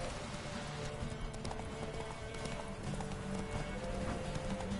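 Horse hooves clip-clopping steadily while riding in The Witcher 3 game, a continuous rhythmic trot over a dense background of game ambience, moderately quiet.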